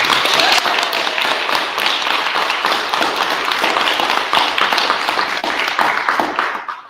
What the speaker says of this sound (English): I would just invite our audience here, our congregation, to give you a round of applause for that